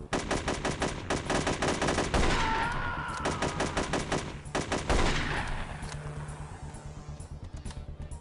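Rapid bursts of automatic gunfire from a budget PC shooter game rattle loudly and almost continuously, with brief pauses between volleys and no voices.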